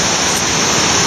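Creek water rushing steadily beneath a bridge over Spanish Creek, a historically mined creek from the Cariboo Gold Rush; a loud, continuous broadband roar close by, with no voices.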